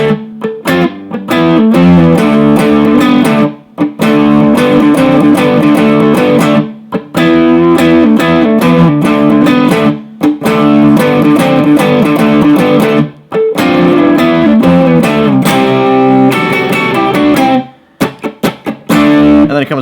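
Distorted electric guitar plays the riff of the Rolling Stones' Can't You Hear Me Knocking, loud and driving with choppy rhythmic chords and short breaks between phrases, no talking.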